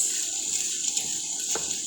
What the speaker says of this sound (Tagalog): lagyan na natin ng tubig